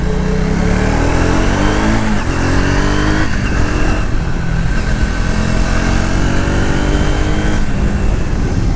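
Triumph Speed 400 motorcycle revving hard on the move, engine pitch climbing and falling through repeated accelerations and gear changes, loud and close with steady road roar beneath, no talking.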